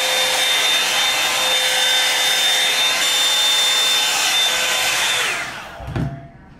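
A hair dryer brush, larger than a Dyson, blow-dries nearly dry hair with a loud, steady whirring roar and a thin high whine, holding constant for about five seconds before it is switched off and winds down with a soft clunk.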